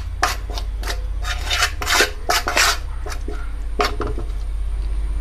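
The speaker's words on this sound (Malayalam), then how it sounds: "നല്ലപോലെ ഒന്ന് നമുക്ക് ഒന്ന് ഇളക്കാം." Chicken is stirred with salt in a bowl for a barbecue marinade, producing repeated close rasping and scraping strokes over a steady low hum.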